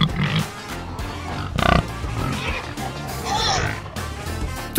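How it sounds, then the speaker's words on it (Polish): Pigs grunt and oink in a farmyard, a run of snuffling grunts over a busy, noisy background. "Tak, to świnia! Świnia chrumka!"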